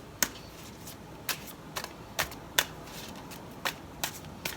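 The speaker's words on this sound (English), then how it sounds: "we're gonna have to keep shuffling this" A deck of tarot cards being shuffled, heard as a series of sharp riffling snaps at uneven intervals, fairly quiet and close.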